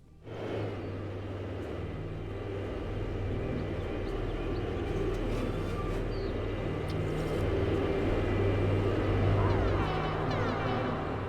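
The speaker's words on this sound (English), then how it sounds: "Here comes another Hades bomber squad." A Hades bomber squad of aircraft in a space video game, a steady low engine rumble and drone that holds for several seconds, moderately loud with faint game effects layered over it.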